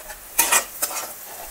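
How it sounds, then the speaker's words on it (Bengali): Bitter gourd slices frying in a pan with black cumin and a little onion, stirred with a utensil: a few quick scraping clinks over a soft sizzle, close and clear with no talking. "লাল লাল করলা ভাজা দেখছিস।"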